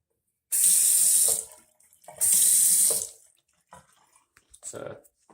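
Glacier Bay dual-flush toilet flushing, two short rushing bursts of water about a second each, close by, followed by quieter trickling and gurgles.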